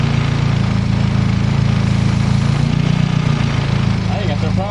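A car engine idling loudly and steadily up close while a vacuum leak is being checked, a deep, even hum whose pitch shifts slightly partway through; a voice briefly comes in near the end.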